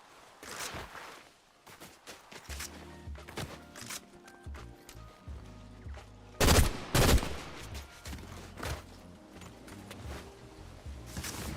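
Gunfire in a shooter video game: faint scattered shots and bursts over low rumbling game ambience, with a louder cluster of cracks in the middle.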